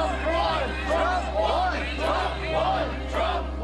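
A large crowd at a Washington protest rally against election fraud shouts and chants in rising, repeated waves, dense and continuous around the listener.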